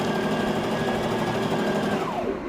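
A Brother sewing machine stitches fabric with a steady, close mechanical whir and rapid needle chatter, slowing and winding down near the end, with no talking.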